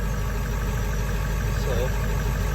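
A 2000 Ford F-250 with a 7.3 Powerstroke diesel and straight pipe exhaust idles with a lope tune in cold weather, a steady loud rumble with an uneven pulse throughout.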